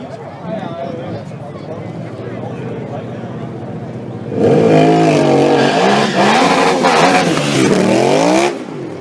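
A drag racing car launches down the strip at a motor festival, a sudden loud engine blast with rapid revving that cuts in after a quieter stretch of commentary and continues under the talk before cutting off.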